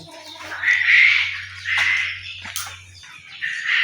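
Native village chickens on a rural farm squawk and cackle loudly and close by in repeated harsh calls, with a low engine-like hum underneath.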